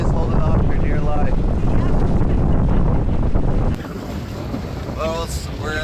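Sailboat motor sailing at about 5.5 knots under genoa, with a steady loud rush of wind buffeting the microphone and water noise, a faint engine drone beneath, and the wind easing slightly near the end.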